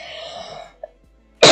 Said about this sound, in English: Sorry about me coughing a lot.